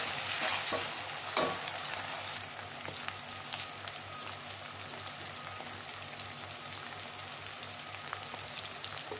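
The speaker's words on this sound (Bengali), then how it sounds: "রসুন মরিচের ভর্তাগুলো আমি যে ব্লান্ডার করে নিছি, এগুলো এখন তেলের মধ্যে ভাজি করবো" Blended garlic and chili paste frying in oil crackles with a continuous close sizzle, broken by scraping stirs and a sharp pop early on, with no one speaking.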